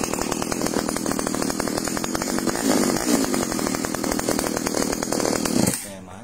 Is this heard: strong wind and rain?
no